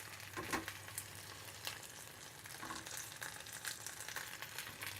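A fish fillet pan-fries with soy sauce and ginger, sizzling and crackling steadily up close with an even bright hiss, a few louder spits and scrapes of the pan, and no voices.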